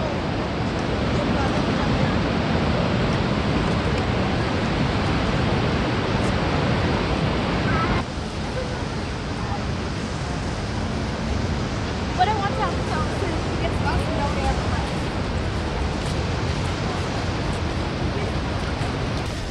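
Niagara Falls roars as a steady, loud broadband rush of falling water close by, with people talking over it throughout.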